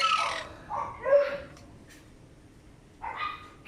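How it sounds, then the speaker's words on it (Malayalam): Dogs at a pet facility in Thrissur barking around feeding time, a few short barks and yips at moderate distance separated by a quiet gap. "അവിടെ അപ്പുറത്തെ നായ്ക്കളൊക്കെ അലമ്പുണ്ടാക്കി തുടങ്ങിയില്ല, അവർക്ക് ഫുഡ് കൊടുക്കുന്ന ടൈമായി"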